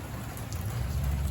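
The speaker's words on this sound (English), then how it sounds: "God dang rain, man." Steady rain falls outdoors, a continuous soft hiss and patter of drops hitting surfaces, with no voices.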